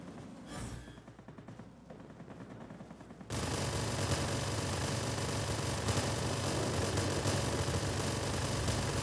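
Sustained, dense machine-gun fire from an F-86 jet in a combat flight game, starting around the three-second mark after quieter engine rumble and continuing loud and unbroken to the end.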